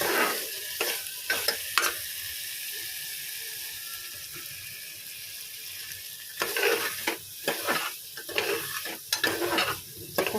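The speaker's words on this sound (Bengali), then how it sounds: "আমার নিরামিষ মশলাপাতি ভালো করে একটু কষিয়ে নিচ্ছি" Vegetarian spices sauté in a hot pan, giving a low continuous sizzle with bursts of scraping and clattering stirs that grow busier toward the end, close up with no voices.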